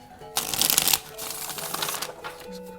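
Tarot cards shuffled by hand close up, two crisp riffling bursts of flicking card edges with soft rustling between them.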